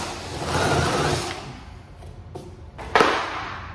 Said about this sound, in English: 1-inch paddle bit, also known as a spade bit. We only need to go in about a half inch.